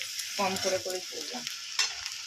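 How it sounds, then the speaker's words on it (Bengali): Onions frying gently on low heat in a pan for a meat and elephant foot yam curry, a soft steady sizzle with stirring scrapes while someone talks over it. "আমি একটুখানি আঁচ কম করে ভাজলাম, যাতে পেঁয়াজটা সেদ্ধ হয়ে যাবে"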